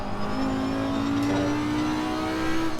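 Race car engine in Assetto Corsa Competizione pulling hard near the top of third gear with traction control on setting 1, a loud steady rising drone that climbs in pitch through the whole stretch.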